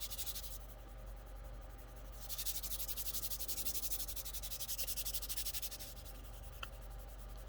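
Fingertips drag across sanded spray primer on a scale model part, a soft gritty rubbing hiss in steady strokes, close and quiet with no voices.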